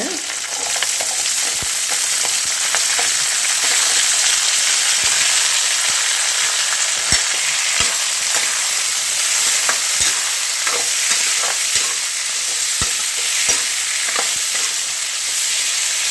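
Garlic, green chilli, onion and tomato fry in hot oil while being stirred, a continuous loud sizzle broken by scattered scraping clicks of a spoon against the pan.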